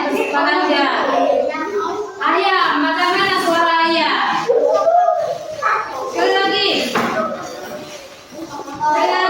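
A young child imitates a chicken's call in a classroom session, giving several drawn-out, sing-song vocal bursts close to the microphone, with brief pauses between them.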